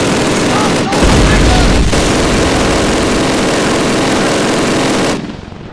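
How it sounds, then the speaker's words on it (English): Rifle and machine gun fire rage during the battle to retake Stalingrad's Red Square in Call of Duty (2003). The bursts are loud, dense and nearly continuous, with a couple of brief breaks early on, then taper off at the end. "Open fire! Fire!"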